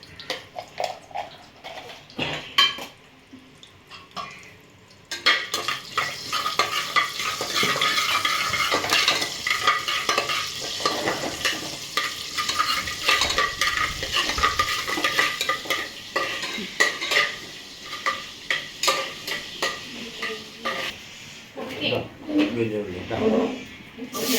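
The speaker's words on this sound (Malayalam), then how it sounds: "നമ്മളിവിടെ കടുകിട്ട് പൊട്ടിക്കുകയാണ്." Crackling and spattering of mustard seeds popping in hot oil, with stirring clinks of a utensil in a pan and a person talking over it.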